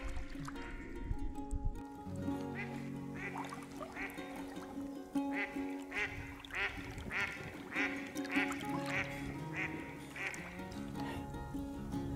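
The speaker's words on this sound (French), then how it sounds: "Il y a une réunion de copropriété des canards" Several ducks quack repeatedly in a lively, overlapping chorus, heard from a short distance over a steady outdoor background on the Ain river, from a kayak.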